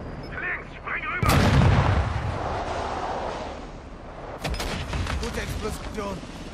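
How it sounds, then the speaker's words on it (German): Placed charges go off in the Call of Duty Modern Warfare II video game, a loud booming blast with a rumbling tail, followed by a second burst of crackling gunfire and impacts, with game voices talking around it. "Gute Explosion. In der Tat."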